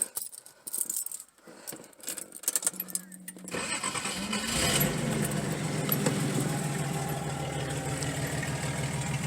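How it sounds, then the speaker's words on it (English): A Datsun 280ZX fitted with a new muffler starts up after a few seconds of quiet handling noises, then settles into a loud, steady idle that rumbles on close by without talk. "Now I'm going to fire it up real quick just to see how it sounds."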